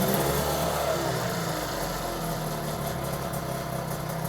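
A 1979 Johnson 9.9 hp outboard motor runs steadily in a water test tank, its even idle-like drone continuous and fairly close throughout, with no talking.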